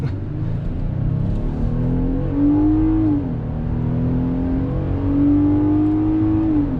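A custom 4x4 offroad crosskart buggy with a 600cc engine and a Subaru drivetrain revs and accelerates, its engine tone rising and falling in steady waves as a continuous close rumble, with no talking.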